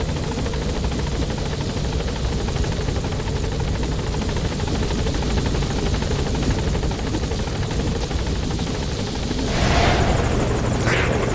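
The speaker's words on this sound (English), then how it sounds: "Support helicopter has arrived." A helicopter's rotor thrums steadily and loudly throughout, with a brief rush of wind-like noise near the end, in the video game Metal Gear Solid V: The Phantom Pain.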